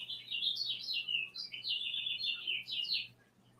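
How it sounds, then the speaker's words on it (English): A bird chirping near a porch, a continuous run of high, warbling chirps and trills, clear and fairly close over a faint low hum, with no talking. "I don't even know what kind of bird that was."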